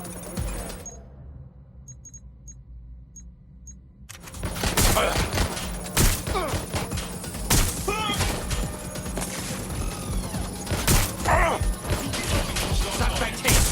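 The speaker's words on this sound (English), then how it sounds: "Shots fired! Suspect hit!" Gunfire in the video game Watch Dogs Legion, a quiet stretch giving way to loud, dense bursts of shots and crashing impacts, with shouted voices mixed in.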